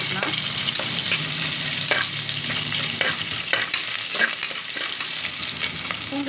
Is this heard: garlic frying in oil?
yes